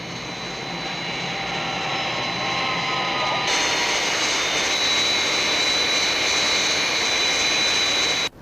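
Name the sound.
Skythrust aircraft in flight after takeoff, Thunderbirds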